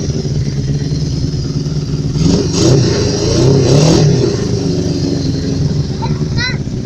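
A 1975 Honda CB400 Four Supersport motorcycle engine revs up close, its steady idle rising into two louder throttle blips before settling again, with faint voices nearby.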